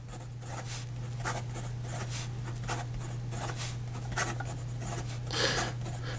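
Rapid writing with a fine-nibbed Parker 51 fountain pen on paper, a quick series of close, soft scratchy strokes in an even rhythm over a low steady hum.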